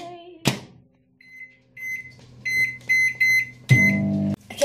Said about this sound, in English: Okay, my chocolate's now in the microwave.